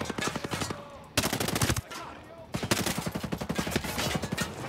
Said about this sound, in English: Who's this other guy shooting at me?